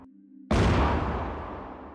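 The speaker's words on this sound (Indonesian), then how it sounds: "Meriam diputar, ditembakkan lagi." A cannon fires in a single loud, deep blast that cuts through a low hum and rolls off into a long, fading rumble over about a second and a half.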